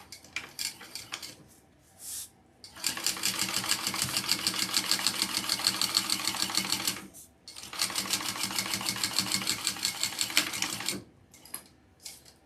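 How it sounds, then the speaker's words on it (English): A sewing machine stitches a lining piece at full seam allowance, running in two long steady bursts of rapid, even stitching, each separated by brief pauses with faint handling sounds; close and fairly loud, with no talking. "now I'm going to sew that on. Full seam allowance."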